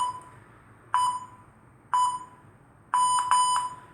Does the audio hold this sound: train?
no